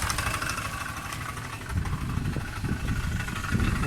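A running engine with a suspected failing overrunning clutch near the generator drones steadily at a mid pitch, a low uneven knock under it and revs rising slightly toward the end, heard up close.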